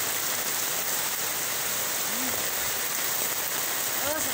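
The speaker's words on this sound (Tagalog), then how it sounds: "Ang lakas ng ulan." Heavy rain pours steadily in a dense, loud hiss throughout, with a couple of faint bird chirps rising briefly near the end.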